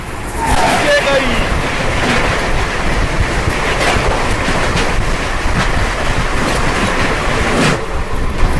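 A superfast express train crossing at about 130 km/h on the adjacent track, heard from inside another train also running at full speed: a loud, continuous rushing roar with rapid clatter from start to finish.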